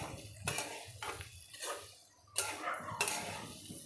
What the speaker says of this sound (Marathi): आता मी टाकलेले आहेत हे आपले वडे आणि ह्याला छान आता ह्या तेलामध्ये मिक्स करून घ्यायचं आहे